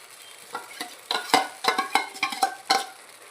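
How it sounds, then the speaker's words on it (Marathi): Tomato paste being stirred into fried onions in a hot pan: a spoon scrapes and pushes the mixture in a series of irregular, close strokes over a steady soft sizzle. "ती पण चांगली मिक्स करून घेऊया यामध्ये"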